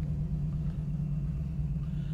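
A 1968 Chevrolet Camaro's engine rumbles low and steady from inside the car as it idles, waiting to pull out into traffic, with a constant deep drone and no talking.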